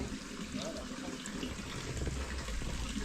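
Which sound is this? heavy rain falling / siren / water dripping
water dripping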